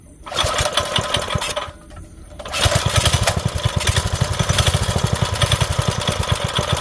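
A turbocharged Honda CB750 pro-mod motorcycle engine, cold, cranks and fires, then settles into a loud, fast, steady running beat close by.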